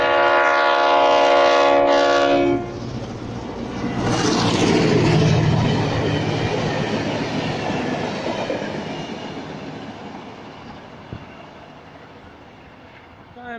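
Commuter train, set H2, pulling into Shellharbour Junction station: a loud horn blast for the first couple of seconds, then the rumbling roar of the approaching train swelling up close and slowly easing as it slows along the platform.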